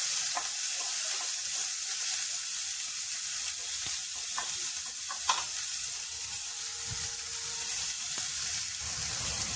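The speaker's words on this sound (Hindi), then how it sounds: "प्याज बिल्कुल लाइट ब्राउन भूनेंगे जिससे इसकी मिठास भी नहीं खत्म हो।" Onions frying toward light brown in a pan for aloo gobhi: a continuous, even hiss of sizzling oil with a few faint clinks of a stirring spoon, close and steady, with no voices.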